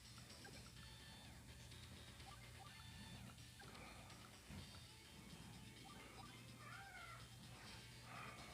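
A cat meows and mewls faintly and plaintively in a quiet room, in several drawn-out calls over a low steady background hum.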